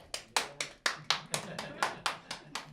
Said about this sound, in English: One person clapped